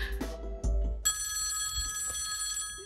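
A telephone bell rings with a bright, sustained electronic trill that starts abruptly and holds steady for about a second and a half, heard after a few soft indoor noises.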